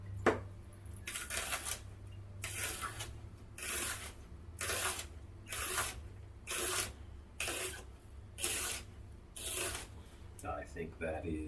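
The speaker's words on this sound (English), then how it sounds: "This is not how you want to chop onions" Knife chopping onion on a cutting board at home while preparing tacos and guacamole, a regular series of about eight rasping, crunchy bursts of cuts separated by short pauses, close and fairly loud over a low hum.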